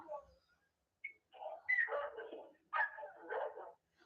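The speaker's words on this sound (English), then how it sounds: "What are the dogs barking in the back?" Dogs barking in the background of a phone call, a few muffled, distant yips and barks in short bursts separated by brief gaps.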